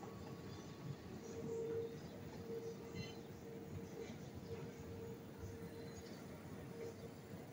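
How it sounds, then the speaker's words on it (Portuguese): A train passing near a rural pasture with cattle gives a soft, distant, continuous rumble with a faint steady hum, swelling slightly early on and staying low throughout. "é o barulho desse trem passando"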